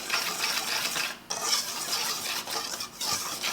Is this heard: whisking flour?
yes